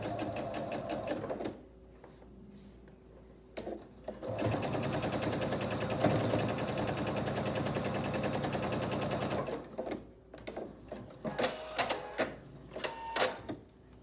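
A sewing machine stitches a fabric strip onto a holiday placemat in steady mechanical bursts, with a long continuous run in the middle and short stop-start runs near the beginning and end.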